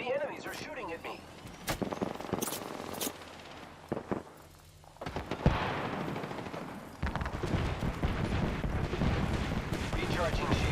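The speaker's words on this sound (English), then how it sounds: "The enemies are shooting at me." Enemy gunfire in a shooter video game, bursts of shots and rapid fire crackling near and far, with a voice talking over parts of the action.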